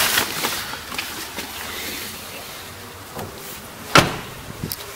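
A Dacia Duster 4x4 door that does not shut properly is swung closed outdoors, giving one sharp, loud thud near the end, preceded by softer knocks and rustling against a windy background with no talking.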